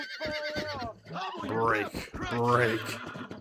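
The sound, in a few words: horse whinnying during horse breaking, Red Dead Redemption video game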